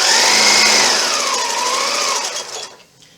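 A sewing machine stitches the last seam of an Ohio Star quilt block over pins, a fast buzzing whir that speeds up and slows down, then stops with a few soft clicks.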